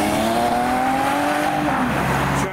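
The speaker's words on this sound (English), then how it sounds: "Porsche Cayman's next to depart." A Porsche Cayman accelerates away at a car meet, its engine note climbing steadily and loud for a couple of seconds as it pulls off.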